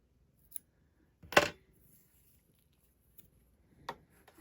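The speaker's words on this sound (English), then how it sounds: "I'm looking through the camera here trying to cut this knot." Scissors snip through a knot in yarn: a few sharp, close cuts with one louder snip and quiet pauses between them.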